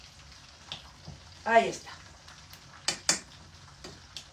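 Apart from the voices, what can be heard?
breaded chicken breasts frying in a pan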